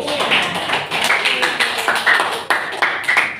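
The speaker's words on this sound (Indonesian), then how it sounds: "Bikin aplaus dong guys." Audience at a class group presentation claps, a short burst of irregular applause from a small room of people, close and fairly loud, with some voices talking over it.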